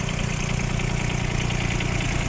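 A Kubota Aste A-13 mini tractor engine idles steadily and evenly outdoors in winter, a close, loud, continuous rumble with no talking.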